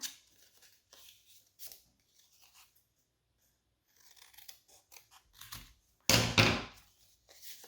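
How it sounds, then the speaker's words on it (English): Scissors cut a paper craft piece in half, heard as several quiet, separate snips and slides with silent gaps between them, ending in one louder, longer crunching cut. "And then I'm going to cut it in half."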